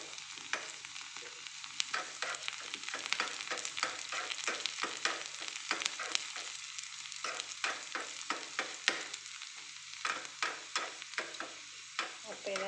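Onions frying in a pan for a dried prawn and mango curry, a steady soft sizzle with repeated scraping stirs of a spoon, close and quiet, no talking.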